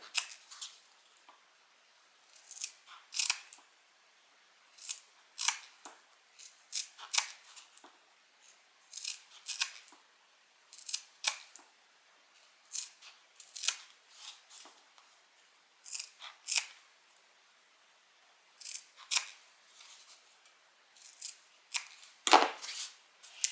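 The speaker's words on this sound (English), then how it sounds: "So I'm going to cut, and then I'm also going to cut the seam allowance down just a little bit." Sharp scissors snip through fabric again and again, trimming corners and cutting down the seam allowance on a Brahmin-inspired handbag. The cuts come in quick bursts of clipped snips separated by short pauses, close and clear with no talk.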